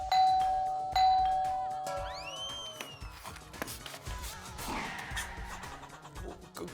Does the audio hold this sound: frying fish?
no